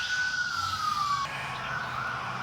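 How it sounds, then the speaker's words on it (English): A siren wails steadily, its pitch sliding slowly downward and then holding, loud and continuous with traffic noise beneath. "sorry about that lot of sirens"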